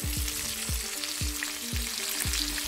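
Onions sizzle in a pan for restaurant-style chilli chicken. A steady, hissing fry runs under regular soft knocks of a utensil stirring against the pan about twice a second.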